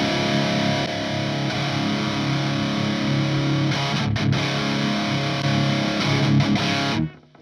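Dover DA50 guitar amplifier on its second gain channel: a loud, thick distorted guitar chord ringing steadily for several seconds with slight strum variations, cutting off abruptly near the end.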